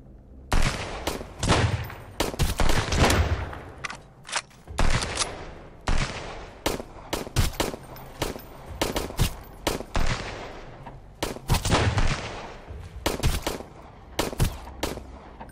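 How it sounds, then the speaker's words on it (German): Gunfire in the survival game Sunkenland: loud, close bursts of rapid automatic shots and single cracks, repeated in irregular clusters over a low rumble, with no talking. "Jetzt muss ich schießen."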